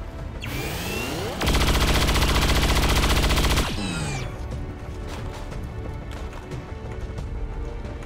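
Gunfire in the video game XCOM 2: a loud, dense burst of rapid shots lasting about two seconds, framed by sweeping whooshes, then quieter clatter and ambient effects.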